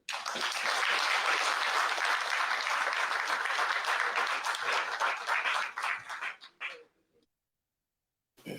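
A crowd at a prayer ceremony in Gabon breaks into applause and acclamation, a thick, sustained roar of clapping and cheering that thins out, tapers with a few last claps and falls to silence near the end.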